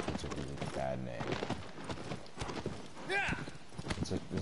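Horse hooves clip-clop in a PS4 video game, with rhythmic steps running under a voice speaking and other game sounds.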